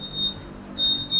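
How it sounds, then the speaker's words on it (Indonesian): Buzzer on a Honda smart key warning that the remote is out of range, two short high-pitched beeps separated by a brief pause. "Smart Key akan berkedip dan ada diiringi suara buzzer"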